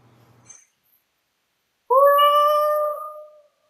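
A cat gives a single loud, drawn-out meow lasting about a second and a half, close to the microphone after a brief quiet stretch.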